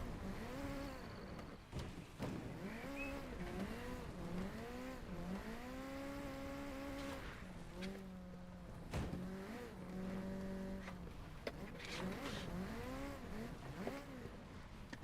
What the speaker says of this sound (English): About to freaking take a Mitsubishi Lancer Evo through Mordor